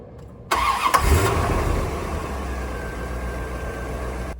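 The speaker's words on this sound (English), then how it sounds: "we're going to start the engine" A 1994 Chevrolet Corvette with a six-speed manual starts up nearby: a quiet lead-in, a sudden loud crank and catch, a brief rev surge, then a smooth steady idle.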